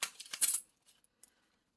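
Dice rolled during a cash-stuffing savings challenge clatter in a quick burst of sharp rattles over about half a second, then a few faint scattered ticks as they settle.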